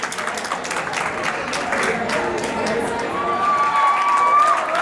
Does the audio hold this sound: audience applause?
yes